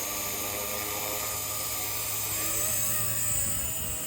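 A Blade 230s Smart v2 RC helicopter hovers nearby, its motor and rotor giving a continuous high whine with a steady buzzing drone, pitch wavering slightly midway.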